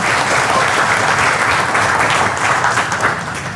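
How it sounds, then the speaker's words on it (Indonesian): Audience applause fills the room steadily, a dense wash of many hands clapping, loud and close, with no talk over it, fading slightly at the end. "Tepuk tangan buat kita semua sekalian ya."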